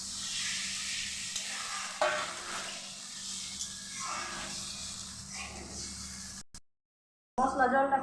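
Spiced water bubbles steadily in a pan for a village-style egg and potato curry, a soft continuous hiss and simmer with a few light clinks, then a brief cut before it resumes.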